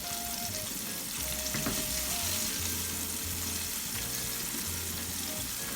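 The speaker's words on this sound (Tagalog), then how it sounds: "tuloy-tuloy lang natin ang pag-fry ng ating chicken" Chicken frying in oil, a steady dense sizzle and crackle that holds at an even level throughout, with a faint low hum beneath.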